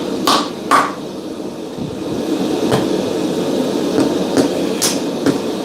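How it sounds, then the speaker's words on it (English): A hammer strikes hot steel while a chef's knife is forged, with several sharp, ringing blows at uneven intervals over a steady background hum. "I pulled that hammer blow."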